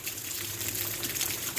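A small shower runs steadily nearby, a continuous close hiss of spraying water with no break across the short stretch.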